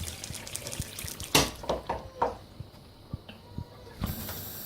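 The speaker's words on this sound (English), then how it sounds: "Now add a glass of water" Water poured from a glass into a pot of simmering chicken curry, a short splashing gush followed by faint sizzling and hissing with a few light knocks and clinks, close and quiet.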